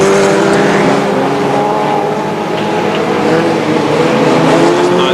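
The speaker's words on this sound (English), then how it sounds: "Jonathan Lewin car going round there very nicely actually, picking up ground, moving past number 66" Stock cars race around an oval speedway in a NACO Baarlo stock car event, with loud, continuous roaring engines that hold steady for several seconds and no clear voices above the din.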